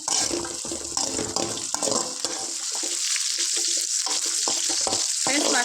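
Green chillies frying in a pan for a tomato, mint and coriander chutney, a loud, constant crackling hiss close up, with scattered scrapes and knocks of a spoon, no talk.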